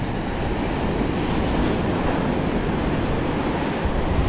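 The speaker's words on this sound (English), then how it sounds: "Despite the swell being huge out there, I thought it would be a lot more surgy than it is." Heavy ocean swell and surf at a fishing beach, a dense, continuous roar of breaking waves mixed with wind buffeting the microphone, loud and steady with no voices.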